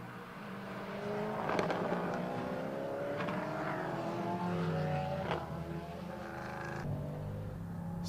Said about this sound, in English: Slightly gentler engine note than the LMP3s, which were all guttural.